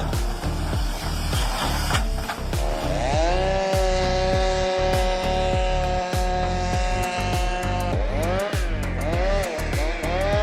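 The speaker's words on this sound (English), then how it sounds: "The high-powered chainsaw roars, its engine echoing throughout the forest" A high-powered chainsaw cuts a tree in a forest: a loud, steady engine roar with rising and falling pitch as the blade bites and revs, broken by rhythmic dips. It is close and continuous throughout, with no talk.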